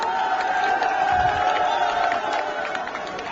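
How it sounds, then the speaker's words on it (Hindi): A large crowd at a political rally in Firozabad cheers and claps in a steady, dense roar with tonal shouting on top, loud and continuous throughout. "ये ऐसी तालियां बजती रहे"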